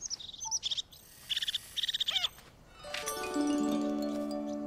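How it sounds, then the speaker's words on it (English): Small wild birds chirp and sing outdoors in short bright bursts and trills, followed by a louder overlapping chorus of sustained whistling calls, with no talking. "What bird we get here? Ooh, those are different birdies."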